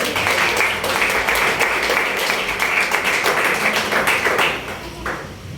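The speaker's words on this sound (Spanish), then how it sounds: "Den un aplauso a nuestro Padre" A church congregation applauding together, loud dense clapping that holds steady for several seconds and then fades out near the end.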